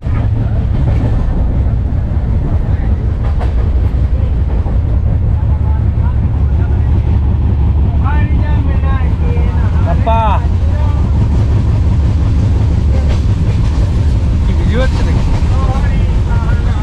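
Inside a sleeper coach of a moving train, a loud, constant low rumble and rattle fill the space, with brief squeals and faint voices rising now and then.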